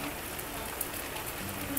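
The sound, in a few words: rain in video game Grand Tactician: The Civil War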